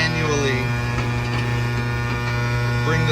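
A jammed gate opener motor with a broken chain runs with a steady electric hum and buzz throughout, close and fairly loud.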